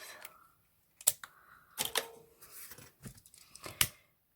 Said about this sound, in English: Wrap round at least twice. Like so, cut off any excess.